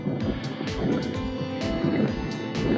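Electric motor of a ZOHD Dart XL RC plane whining past on a flyby, a continuous buzzing drone with faint wind buffeting and scattered soft knocks in the background.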